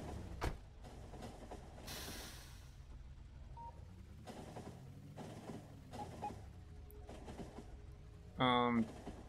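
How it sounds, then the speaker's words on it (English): A fast train rushes along in the video game Factorio, a whooshing rail rumble in passes over faint background game sounds, ending with a brief louder mechanical burst. "Oh my god, this train is so fast."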